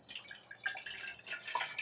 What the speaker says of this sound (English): I pour the water into the kettle